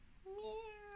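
A single cat meows once, a clear close rising-and-falling call lasting under a second, heard alone in a quiet room.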